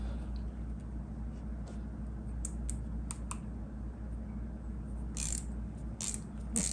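Small screws being worked loose on a Honda CB550 motorcycle during restoration, heard as a run of light, scattered metallic clicks and ratcheting ticks over a steady low hum.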